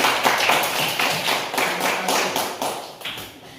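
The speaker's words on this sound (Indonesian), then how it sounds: "Aplaus untuk kelompok 1" A classroom group claps in applause for group one during a primary school lesson, a steady run of close, crisp hand claps that slowly tapers off at the end.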